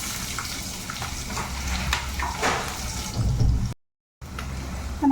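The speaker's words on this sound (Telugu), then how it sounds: "లైట్గా సాజీరా, 2 ఇలాచీలు, 2 లవంగాలు, ఒక దాల్చిన చెక్క వేసుకొని అవి కాస్త ఫ్రై అయ్యేటప్పుడే" Cumin, cardamom, cloves, cinnamon and onions frying in oil for a green chicken curry, a steady close sizzle with bursts of crackle and stirring, cut by a short silent gap.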